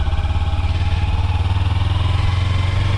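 Kawasaki Ninja 300 motorcycle engine during slow practice riding, a steady low pulsing drone with a rhythmic throb, loud and close, no talk.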